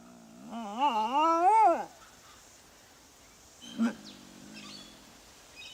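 A dingo gives a wavering, whining howl that rises and falls for about a second, then silence, broken by a brief faint yelp.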